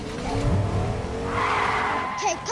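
A car in Fortnite skids with a drawn-out tire squeal over engine noise, ending in a couple of short rising chirps, fairly close with no talk.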